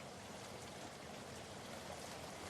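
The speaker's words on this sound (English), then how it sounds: "By the first day of the auction, the drizzle had become a hard rain." Hard rain falls in a steady, dense, even wash that runs unbroken, with no voices heard.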